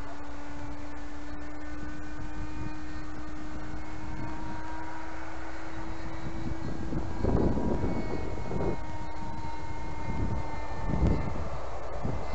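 A Polaris model airplane with a three-blade propeller flies at an outdoor meet in Kuldiga, a steady, moderately loud engine whine holding a near-constant pitch, with wind buffeting the microphone in gusts during the second half.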